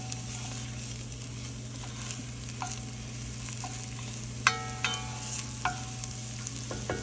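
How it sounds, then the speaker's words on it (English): Onions for spaghetti sauce sizzle softly in a pan as they are stirred, a low, steady fry over a faint background hum, broken by several sharp spoon clinks against the pan in the second half, with no voices. "Now give those a stir real quick, Aiden."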